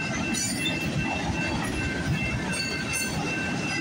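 A CP freight train hauling auto rack cars rolls past close by, a steady loud rumble of wheels and cars with faint rail squeal and clatter running throughout.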